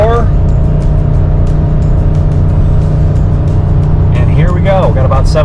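Nissan Armada engine droning steadily under full throttle in third gear while towing about 7,000 pounds on a mountain road, a loud continuous cabin hum with faint voices near the end.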